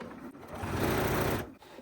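A sewing machine runs steadily at close range, stitching a zipper pouch from jelly roll fabric strips, its rapid mechanical whir rising and continuing for over a second before stopping.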